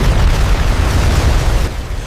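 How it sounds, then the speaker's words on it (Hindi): A huge explosion sound effect for the 1993 bomb blast at the Bombay Stock Exchange building in Mumbai, a loud continuous roaring boom that fades slightly toward the end. "मुंबई की बॉम्बे स्टॉक एक्सचेंज इमारत अचानक एक भयानक धमाके से थर्रा उठी।"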